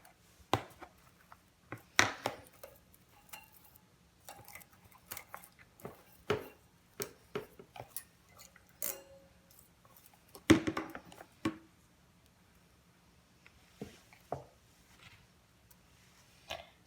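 Rabbit droppings and hay scraped off a plastic litter box grate, giving scattered short scratchy clicks and taps at close range, with a few louder knocks and no talking.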